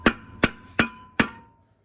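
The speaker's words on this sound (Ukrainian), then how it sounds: "Дайте мені молотка, ви там будете бити, а я тут молотком." A hammer strikes the brake parts on a GAZ-66 wheel during a brake repair, giving four sharp metallic blows at a steady pace, each with a short ringing decay.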